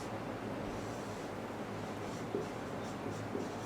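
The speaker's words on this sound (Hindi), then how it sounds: "तो यहाँ पर हम लिखेंगे" Pen or pencil writing numbers by hand on paper during a Class 5 maths lesson, a soft, steady scratching close to the microphone, quiet and continuous, with no speech.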